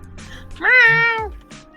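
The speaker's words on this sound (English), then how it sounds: "Oh, my cat is screaming." A house cat lets out one loud, drawn-out, rising and falling meow, close by, with faint bits of voices before and after it.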